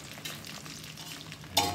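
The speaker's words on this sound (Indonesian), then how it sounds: "Lalu goreng dulu ini telurnya." Eggs fry in oil in a pan, giving a close, steady crackling sizzle with a brief louder hiss near the end and no talking.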